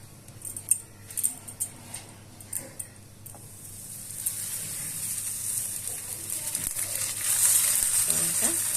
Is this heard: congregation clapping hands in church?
no